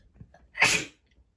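A single loud sneeze bursts out in the middle, preceded by a soft inhale and followed by quiet.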